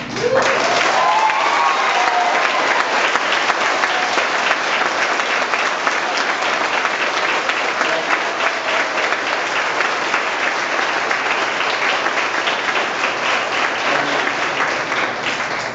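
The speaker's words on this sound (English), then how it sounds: "you all were just applauding for me" A large audience gives a governor a sustained round of loud, even applause, the clapping dense and continuous throughout without pause.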